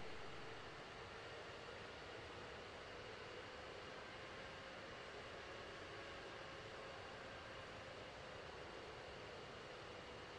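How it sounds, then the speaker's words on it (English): Engine number one of an Eagle jet spools up during start-up in the DCS World combat flight simulator, a faint steady drone with a thin sustained whine. "All right, we can start engine number one now."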